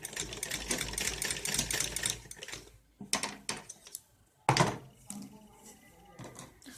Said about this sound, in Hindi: ऐसे राउंडली पूरे में सिलाई लगानी है हमें, गोल गोल।